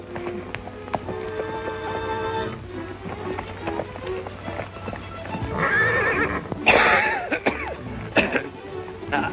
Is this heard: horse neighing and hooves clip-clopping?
yes